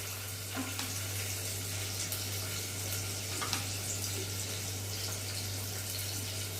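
Onion fries for khichdi in a home kitchen pan, giving a steady, even sizzling hiss over a constant low electrical hum, with no talking.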